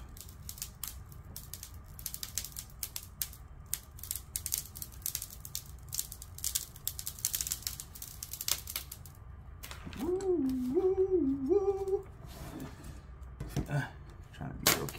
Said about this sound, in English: I'm just gonna go ahead and peel this off.